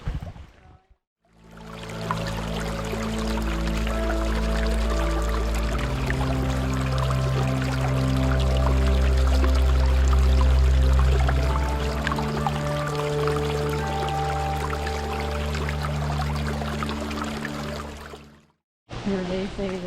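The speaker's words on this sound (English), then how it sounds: "Look at that little whirlpool right here" Water swirls in a small whirlpool along a rocky stream near Carr Pond by the Big River, making a continuous close rushing gurgle with a low churning undertone that fades out at the end; a person talks over it.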